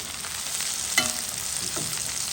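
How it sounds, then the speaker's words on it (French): Onions fry in a pan, a continuous close sizzle with a single stir or scrape partway through. "les oignons qui reviennent un peu dedans"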